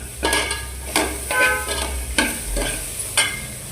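Fish sambar masala fries in a pan while a spoon stirs it, giving several distinct scraping strokes spaced about a second apart over a low, steady sizzle.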